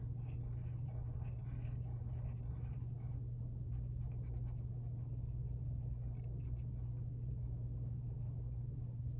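Marker or pen drawing the Target logo on paper, a steady close scratching with short strokes over a constant low mains hum, no talking.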